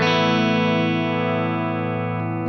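A PRS DGT electric guitar with the pickup selector in the middle position and the neck pickup volume eased back rings out one sustained, distorted chord, loud and slowly decaying, with no talk.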